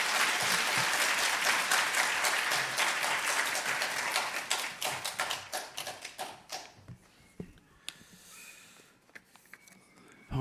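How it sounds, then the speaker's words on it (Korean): A church congregation applauds to welcome the pastor, loud dense clapping that thins into scattered claps and dies away, leaving near-silence with a few stray taps. "박수로 환영해 주세요."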